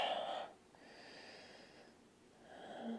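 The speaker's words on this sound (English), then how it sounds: "Inhale, reach the arms up. Exhale, folding forward." A long exhale during a yoga forward fold, soft and close, with breathy air sounds rising and falling against quiet background.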